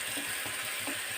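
Food frying in hot oil sizzles steadily, a dense continuous hiss with faint bubbling pops, close and even in level throughout, with no talking.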